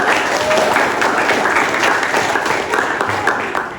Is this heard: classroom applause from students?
yes